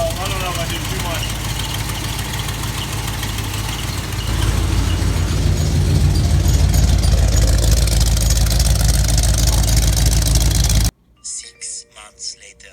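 A 1967 Ford Mustang engine runs loud and close after the gas pedal is pressed, its rumble swelling and holding steady before cutting off abruptly, followed by a brief burst of other sound.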